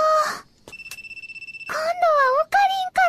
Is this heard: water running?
no